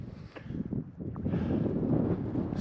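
Gusty wind on an overcast, drizzly day at a lakeside campsite buffets the microphone with a low, rumbling roar that swells and eases, growing steadier and stronger toward the end; no one speaks.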